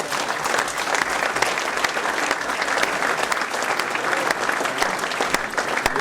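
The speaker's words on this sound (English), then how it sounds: "these guys deserve a round of applause" A crowd at a 2009 Alpine Rally presentation night gives a sustained round of dense applause, with many hands clapping steadily throughout at close range.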